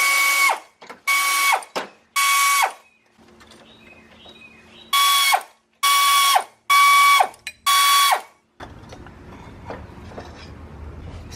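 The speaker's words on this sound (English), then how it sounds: "Now you'll notice I'm using an air impact to take them off." An air impact wrench fires in six loud close bursts, three then three, spinning pulleys off a 1989 VW Jetta diesel engine, with quieter shop clatter in the pauses.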